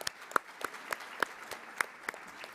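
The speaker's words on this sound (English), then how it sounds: "So just want another round of applause for NALEO and all the work they do." A conference audience gives a round of applause, heard as sparse, fairly faint individual claps recurring in a loose rhythm.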